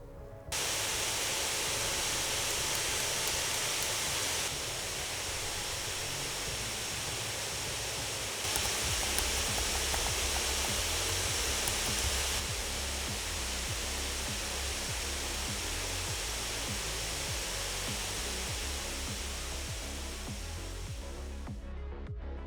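An Alienware X14 gaming ultrabook with vapor chamber cooling runs its fans under load. The whoosh is a steady, broadband rush that holds for a long stretch, stepping slightly louder and softer between settings before cutting off.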